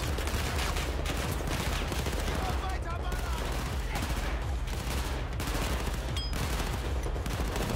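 Dense, continuous gunfire from Battlefield 4, rapid bursts and shots layered over a constant low rumble of game sound effects.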